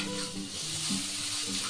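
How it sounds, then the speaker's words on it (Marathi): Sliced onions with a pinch of salt frying in a pan, a short burst of steady close sizzling with a faint tonal hum underneath, no talking. "कांदे लवकर शिजले पाहिजेत म्हणून थोडं मीठ टाकून घेतोय आपण"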